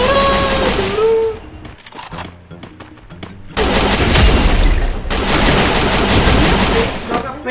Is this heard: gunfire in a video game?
yes